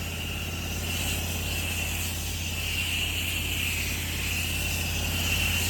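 Pressure washer engine idling at half throttle, fitted with a 1.8 injector, a steady unbroken drone with a low rumble and a faint high whine, running alone without talk.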